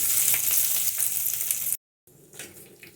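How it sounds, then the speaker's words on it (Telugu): Loud hot-oil sizzling of a tempering crackles steadily, cuts out abruptly for a moment, then resumes more softly with stirring sounds as it is mixed into ivy gourd and tomato chutney. "తాలింపు అంతా పచ్చట్లో వేసుకుని బాగా కలుపుకోవాలి"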